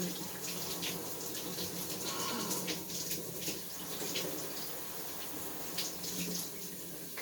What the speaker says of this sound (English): I'm washing my hair right now with, like, normal shampoo